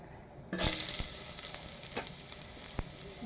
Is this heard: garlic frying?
yes